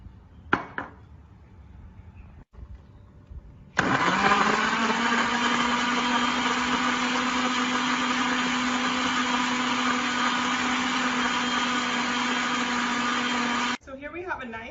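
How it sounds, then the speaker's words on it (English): A blender whirs through a frozen mango and almond milk smoothie, starting abruptly after a few scattered kitchen knocks and running at a loud, steady pitch for about ten seconds before cutting off. "put our things back in our blender to make our smoothie"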